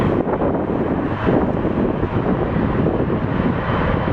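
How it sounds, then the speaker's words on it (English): An Air Canada Cargo airliner at Toronto Pearson airport, a loud continuous jet engine roar with wind buffeting the microphone, steady throughout without speech. "My understanding, Brian, is that it was a Rouge plane, and then it became Air Canada Cargo, so the tail remained."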